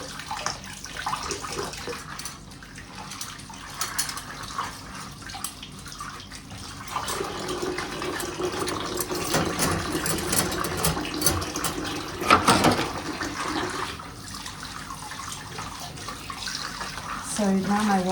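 Water runs steadily from a bidet tap, rising and falling in force over about eighteen seconds, with soft splashing and a few sharper surges, close and moderately quiet.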